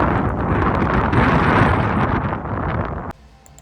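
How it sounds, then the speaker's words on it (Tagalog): Steady wind buffeting the microphone outdoors beside a 2025 Hyundai Tucson in Canada, with a loud, rumbling roar that cuts off abruptly near the end, leaving quiet background. "So, sobrang mahangin."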